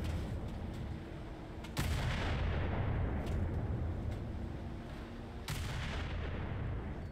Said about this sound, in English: We'll fire this light cruiser. Bring our guns down.